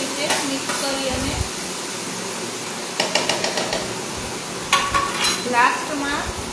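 Rasmalai ladu mixture being stirred in a pan with mango pulp added, heard as bursts of scraping and clattering stirring over a steady sizzle, with talk alongside.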